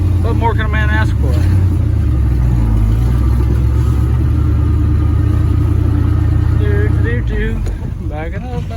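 A 1979-era Chevy engine running, a loud low rumbling drone that holds steady and close throughout, with someone talking over it at the start and end.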